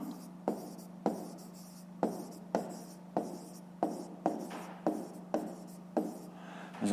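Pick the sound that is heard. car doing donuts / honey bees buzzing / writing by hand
writing by hand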